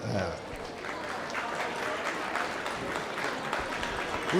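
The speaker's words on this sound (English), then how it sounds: "Let's give this final cut of seniors a big round of applause" A crowd at a county junior livestock show and sale applauds the final group of seniors in the show ring, a steady, moderately distant wash of clapping that holds evenly throughout.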